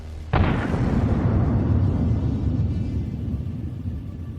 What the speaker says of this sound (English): Ukrainian forces fire a Javelin. The first IFV is hit.